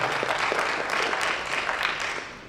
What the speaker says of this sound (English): yes, you should clap for that.